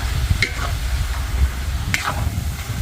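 A spoon scrapes and stirs duck pieces coated in spices in a pot, with a steady sizzle of frying underneath and a few clinks against the metal.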